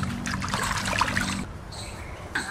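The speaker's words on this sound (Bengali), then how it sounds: "সব কাটা হয়ে গেছে, এবার আমি ধুয়ে নেবো পরিষ্কার করে।" Running water splashes over freshly cut vegetables as they are rinsed, a close trickle and slosh with a short lull partway through.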